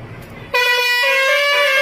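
A Basuri six-trumpet telolet horn on a vehicle bursts in after a brief murmur of voices and plays its multi-tone tune loudly and up close, the bright layered notes shifting in pitch and sustaining to the end.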